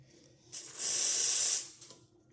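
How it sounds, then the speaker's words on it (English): Steam hisses from the wand of a Lelit Mara X espresso machine, a single bright airy burst lasting about a second that rises quickly, holds steady and tapers off in a quiet room. "we have steam, and I'm going to show that it makes coffee"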